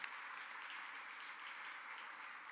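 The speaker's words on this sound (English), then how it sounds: "please give them a round of applause" Faint, distant applause for the staff at a grand opening of The Loading Dock, a smooth, even wash of many hands with no distinct claps standing out.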